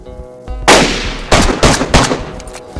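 Gunfire in DayZ, a sudden loud close shot followed by a rapid string of sharp cracking reports, each bursting out over the quiet game ambience.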